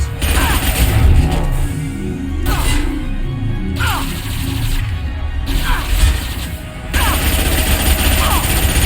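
Dense, continuous gunfire from combat in Mass Effect 2 on PC crackles in sustained bursts with heavy impacts and mechanical clatter, while in-game character voices call out over the battle.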